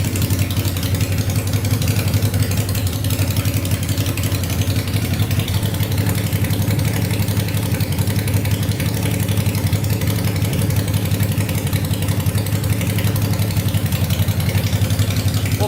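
Honda 500cc engine swapped into a tractor idles while warming up before an oil change, producing a steady, loud, low rumble that holds even throughout with no change in pitch.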